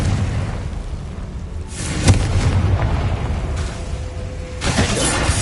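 Confringo fire spell in Hogwarts Legacy blasting out as a pair of broadband booming explosions, the first sharp and the second broader, over a steady rumbling game background with no voices.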